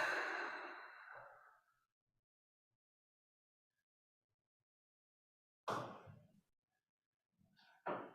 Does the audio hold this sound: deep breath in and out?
yes